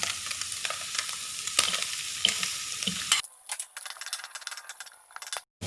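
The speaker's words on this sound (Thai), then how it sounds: "ตามด้วยผักคะน้าที่สุกยากครับ ใส่ลงไปเลย ตามด้วยเราใส่หัวหอมลงไปเลยครับ" Chinese kale and onion stir-fried in a hot pan, a loud continuous sizzle with scraping stirs for about three seconds, then quieter crackling with intermittent clatters before a brief silence.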